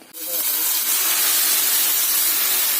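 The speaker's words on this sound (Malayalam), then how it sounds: "കടുക് വറുത്തിടാം" Mustard seeds crackle and spatter in hot oil for a sambar, a loud, dense continuous sizzle that starts abruptly and holds steady close to the pan.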